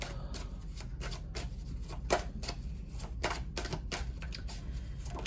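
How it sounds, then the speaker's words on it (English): Tarot cards are shuffled and drawn by hand, giving a string of quick crisp riffling and snapping bursts that repeat at an uneven rhythm over a low steady background, close and moderately loud, with no talking. "We're going to pull some tarot cards on that."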